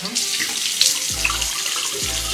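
Water runs from a tap as cleansing oil is rinsed off a face, a steady, close rushing hiss with a couple of splashing sweeps of hands through the stream.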